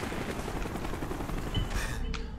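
Gunfire and rotor noise from an attacking helicopter in Call of Duty Black Ops, a dense, steady barrage of rapid shots with a few sharper bursts near the end, loud and continuous throughout.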